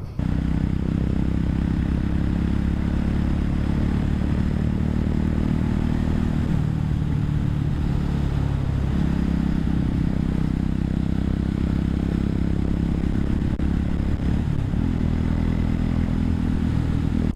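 Voge 300R motorcycle on a ride to the dealer, a steady close engine drone with wind rush throughout and a few audible shifts in pitch as it changes speed.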